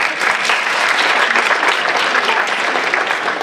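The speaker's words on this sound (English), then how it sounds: "I want you to give yourself a round of applause because you actually deserve it" Dense, sustained applause from an audience of school district teachers and staff at a presentation, loud and even from start to finish, with no pause.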